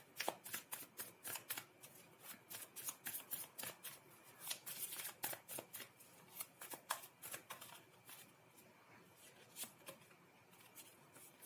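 Tarot cards shuffled and handled near by, a rapid, continuous run of crisp card flicks and riffles with brief pauses, with no voices over it.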